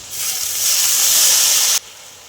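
Water poured onto hot caramelized sugar and grapes in a pan while making grape chutney, a loud steady steam hiss that swells and then cuts off abruptly, with no talk.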